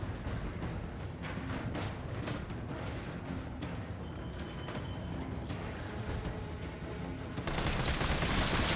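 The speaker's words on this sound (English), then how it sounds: "I just unload about 10 or 11 bullets into them" Gunfire at zombies in the Resident Evil 3 remake, a dense, fairly quiet run of repeated shots and thuds in steady succession, growing louder near the end.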